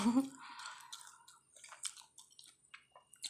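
Mouth sounds of someone eating mushroom curry and home-fried mackerel, with soft wet chewing and small clicks close to the mic, broken by short pauses and a brief vocal sound at the start.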